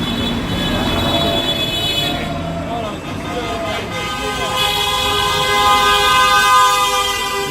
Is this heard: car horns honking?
yes